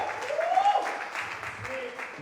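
Comedy show crowd applause with a voice talking over it, the clapping thinner and more scattered beneath the speech as it carries on.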